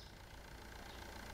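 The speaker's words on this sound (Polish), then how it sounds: "Co to był za dźwięk? To samochód jechał?" Car engine idling and running in Supermarket Simulator, a steady low rumble filling the whole moment at fairly quiet level with no talk over it.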